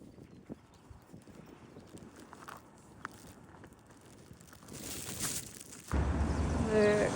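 Horse hooves clip-clop at a slow walk nearby, irregular steps over quiet outdoor ambience, with a louder rustling burst near the end.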